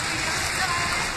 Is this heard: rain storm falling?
yes